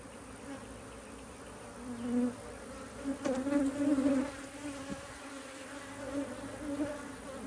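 Honey bees hum in a dense, continuous drone during a hive inspection while frames are being split. The buzzing swells louder for a few seconds in the middle, with light handling clicks beneath it.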